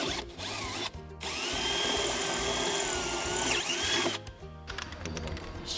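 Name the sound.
drill enlarging holes in airplane parts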